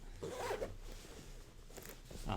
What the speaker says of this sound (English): this zipper is a little bit hard to operate because, as you can see, the materials kind of bunches up